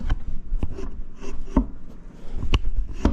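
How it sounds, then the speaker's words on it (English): A plastic wheel is worked onto the axle of a Peg Perego John Deere Gator ride-on toy, close irregular rubbing and scraping with several sharp knocks and clicks, no voice. "you want to take your wheel, put it on your axle"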